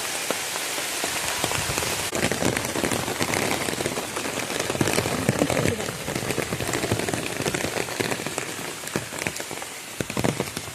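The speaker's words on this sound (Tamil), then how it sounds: "தண்ணி வருது பாருங்கள், மழை தண்ணி." Rain falling steadily at the Siva Parvathy Vishnu temple on Ponnum Thuruthu island in Varkala, Kerala, a dense continuous patter of drops on surfaces that holds loud and even throughout, with people talking over it.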